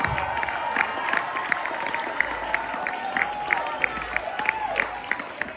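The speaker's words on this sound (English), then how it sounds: "Give these guys a big round of applause." An audience at a managers' convention claps and cheers for new managers, a dense, sustained wash of applause with a faint tonal hum running beneath it.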